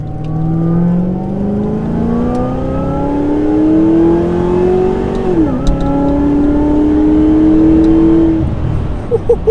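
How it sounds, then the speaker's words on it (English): A 500 HP supercharged Pontiac G8 Firehawk pulls hard under acceleration, with a loud rising supercharger whine climbing over the engine roar, dipping at a shift and then rising again, heard from inside the car. "that supercharger whine sounds good"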